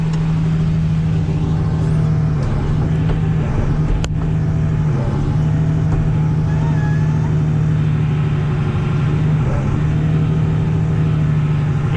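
A farm tractor's engine roars steadily and loudly throughout, revving under load as its wheels try to spin down into snow; the drone is continuous and close, with a few faint knocks and brief speech sounds mixed in.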